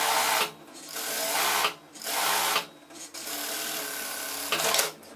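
Sewing machine stitching a seam along one side of a fabric garment placket, running in close, loud bursts of rapid mechanical whirring separated by brief pauses, the last burst short.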